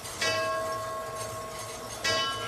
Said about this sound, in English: every 15 minutes like clockwork. The chime sounds.